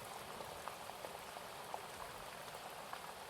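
Steady rain falls in a soft, even patter with scattered brighter drips, faint and continuous, no voices present.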